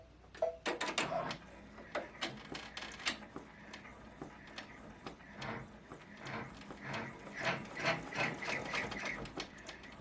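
A sewing machine stitches elastic onto a fabric cover for a large composition notebook. It runs in short, uneven bursts of rapid mechanical clatter, with ticking and clicking between the runs. Nobody speaks.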